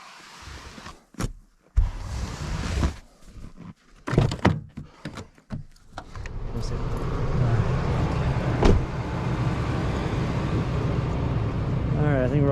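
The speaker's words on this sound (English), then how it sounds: "So let's go ahead and start the truck real quick" A truck at a frozen winter camp, with thunks and door or window sounds at first, then its engine starts and settles into a steady low idle that runs to the end.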